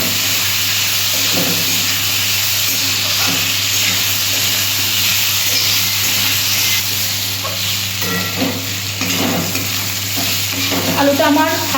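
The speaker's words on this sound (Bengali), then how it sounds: "লবণ হলুদ দিয়ে আলুটা একটু ফ্রাই করে নিচ্ছি আমি" Potato pieces frying with salt and turmeric, a continuous close hiss and sizzle with scattered scraping stirs throughout, no talk.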